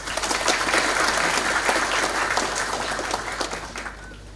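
An audience at a polytechnic graduation ceremony for 470 diploma and applied-degree graduates applauds in a full, sustained wash of clapping that carries through at an even level and eases slightly at the end.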